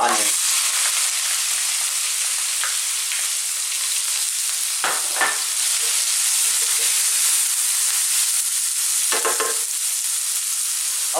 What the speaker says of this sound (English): And now I'm going to drop in our onion.